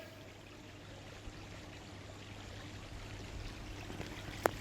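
Water gushes out of an overflowing storage tank whose motor was left running, a steady, moderately faint rushing flow over a low constant hum, with a brief sharp click near the end.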